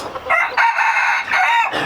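A rooster crows loudly and close by in a long, drawn-out cock-a-doodle-doo with several rising and falling bursts and no talk over it.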